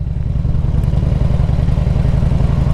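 A motorcycle engine idling and pulling gently in first gear with a little throttle, a loud, steady low rumble close by, continuous throughout with no voices.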